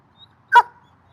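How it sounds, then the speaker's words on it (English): A single sharp, close bark from a puppy rings out alone in an otherwise quiet room, with a faint short chirp just before it. "our amazing daily dose of the puppies, Apollo and Leyla."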